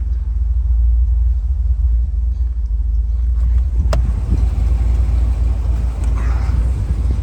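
A 1976 Cadillac Sedan DeVille engine idling, a loud, steady low rumble heard from close up, with a few faint clicks partway through.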